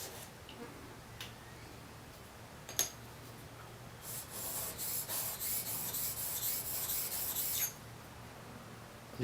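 A spokeshave blade rubbed on an 800 grit waterstone to turn back the burr: a few faint strokes, then a steady run of gritty, hissing honing rasps for several seconds before it stops.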